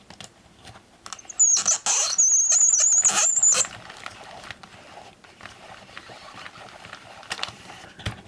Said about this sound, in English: we can come up here and crank the film back into the little canister